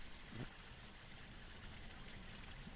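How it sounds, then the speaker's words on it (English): Steady rushing hiss of a small waterfall, constant and fairly soft, running alone with no talk. "You hear the waterfall?"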